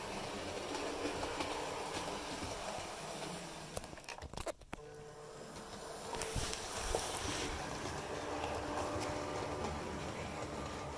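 Class 37 diesel locomotive hauling a single coach rolls past at a steady, fairly close distance, a continuous engine rumble and rail noise with a brief dip midway before building again.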